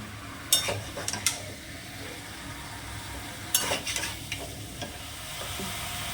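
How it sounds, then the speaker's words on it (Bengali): Peeled, halved potatoes being sautéed in a pan over medium heat for chicken biryani, a soft steady sizzle broken by a few scraping clinks of a spoon stirring against the metal; no talking. "দিয়ে দিলাম আলু আর কিছুই না মিডিয়াম আছে কষতে থাকবে"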